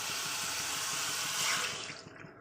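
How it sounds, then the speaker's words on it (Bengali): Water pours steadily into a cooking pot of spiced curry with potatoes in a home kitchen, a continuous splashing gush that tapers off at the end. "অল্প করে জল দিয়ে দেবো।"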